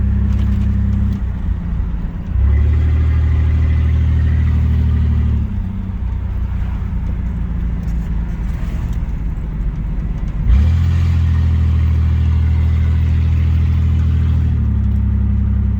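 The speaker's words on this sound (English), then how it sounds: "listen to the sweet, sweet sound of whatever that exhaust is" A long-neglected Chevrolet S10 truck drives with a loud, deep engine and exhaust drone, heard from inside the cab, shifting pitch as it accelerates and changes gear, steady and close throughout.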